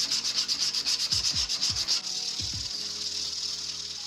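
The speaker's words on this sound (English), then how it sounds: "I'm going to take my sandpaper and I'm going to go the other direction." Rhythmic rasping of sandpaper against a wooden vegetable peeler handle spinning on a lathe, swishing back and forth in quick strokes before settling into a steady hiss.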